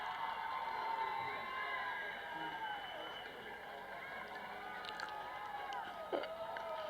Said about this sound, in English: The cheering you hear is from the youth